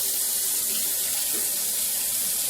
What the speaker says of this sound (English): add some warm water